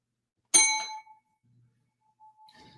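Notification bell sound effect, a single bright metallic ding that rings out clearly and decays, followed by a faint trailing tone in otherwise near-silence.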